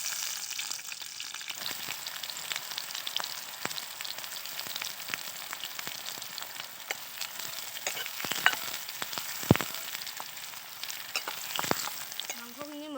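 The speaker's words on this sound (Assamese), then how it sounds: "তেলখিনি গৰম হ'ল, এতিয়া মই পিঁয়াজ দিম।" Onions frying in hot oil for a local chicken dish, a steady crackling sizzle with scattered sharp pops and stirring clicks, close and continuous, no voices.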